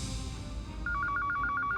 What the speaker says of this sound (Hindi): शांतताई, फोन बज रहा है।